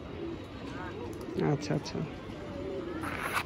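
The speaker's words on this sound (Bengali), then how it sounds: "এই যে কবুতর অনেক সুন্দর করে খাচ্ছে" Large Sirazi pigeons feed on a house rooftop, giving a few soft low coos amid light bird calls while someone talks over them.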